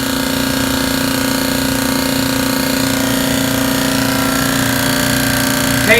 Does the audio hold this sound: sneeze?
no